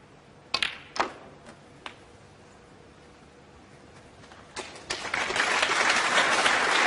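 Snooker spectators begin applauding after a break, a few isolated sharp claps or taps early on, then a quiet lull before the clapping swells into a fuller, sustained round.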